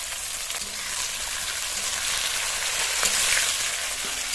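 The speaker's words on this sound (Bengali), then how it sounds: "গরম তেলের মধ্যে দিয়ে দেবো তেজপাতা দারচিনি এলাচ লবঙ্গ এবার দিয়ে দেবো পেঁয়াজ কুচি কাঁচা লঙ্কা চেরা" Chopped onion and slit green chili frying in hot oil with bay leaf, cinnamon, cardamom and cloves: a continuous bright hiss of sizzling, close and steady, swelling slightly partway through, with no voices.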